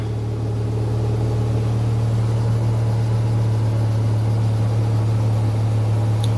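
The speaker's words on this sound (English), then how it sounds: "That's a smooth running engine." Idling Mazda RX-7 FC rotary engine, a steady, smooth low hum with a strong fixed tone, close and continuous, with no voices.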